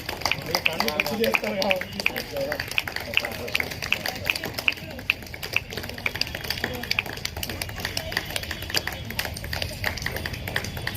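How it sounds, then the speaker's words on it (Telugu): A gathered audience claps steadily and densely throughout, a sustained wash of many hands close by, with a person speaking over the applause. "ఘనంగా తప్పట్లు కొట్టాలి"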